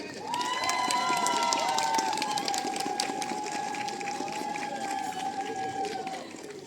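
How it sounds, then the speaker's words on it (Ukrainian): Long, sustained applause from an audience at an Ivana Kupala festival contest evening, a dense wash of clapping with a steady whistle-like tone above it, loud at first and slowly tapering. "Добрі, хороші затяжні оплески"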